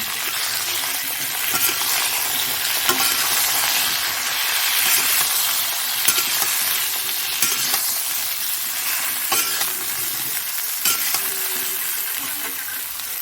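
Cauliflower fries in hot oil in a wok over a wood fire, giving a steady loud broadband sizzle with occasional stirring scrapes, continuous throughout with no talking.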